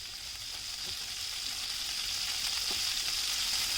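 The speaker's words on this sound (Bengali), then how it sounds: "শুধু একটু লবণ দিয়ে এটাকে ফ্রাই করছি" Beef pieces fry in hot oil with a little salt, giving a steady, dense sizzle with faint crackles throughout, close and moderately loud with no talking.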